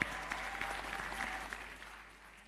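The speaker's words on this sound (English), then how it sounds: "Please a round of applause for them." An audience at a university convocation ceremony gives a round of applause. The clapping is steady, dense and somewhat distant, and it fades gradually toward the end.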